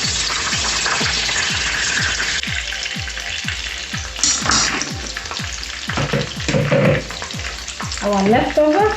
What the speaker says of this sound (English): Our leftover, we just fry it like that.